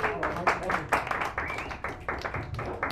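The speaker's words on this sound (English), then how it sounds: "give her a nice round of applause" Applause for a poet at an open mic night in a San Francisco cafe: a small audience claps in quick, uneven bursts, close and fairly loud, with some voices mixed in.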